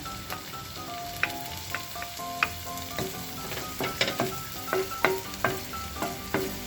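Garlic frying in moderately hot oil for sautéed cabbage, a light crackling sizzle broken by spoon taps and stirring strokes against the pan, close and fairly quiet.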